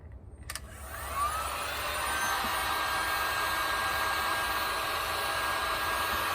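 Heat gun blowing hot air at a Kydex knife sheath being reshaped, a loud steady whoosh that starts after a brief click and holds evenly throughout, alone with no talk.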